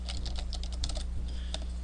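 Rapid keystrokes on a computer keyboard clatter in quick irregular bursts while a command is entered at a Linux terminal on CentOS, close and clear with no one talking.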